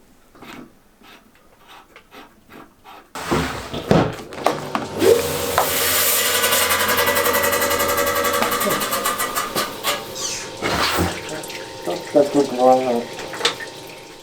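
A saw cuts through an agate nodule with a loud, steady wet grinding whine after a quiet start, breaking off near the end into rougher bursts, while a voice talks now and then.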